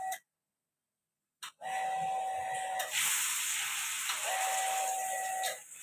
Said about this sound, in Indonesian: Masukkan ke wajan yang sudah mendidih dengan minyak.